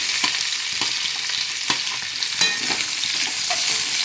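Chopped carrots and beans fry in hot oil for a mixed vegetable dish, with a steady close sizzle and a few soft scraping stirs breaking through it.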